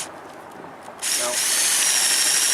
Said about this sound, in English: it'll drill it out all right